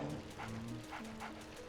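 A dog in the Luigi's Mansion video game lets out a series of rhythmic barks and yips, spaced steadily over background game music at moderate volume.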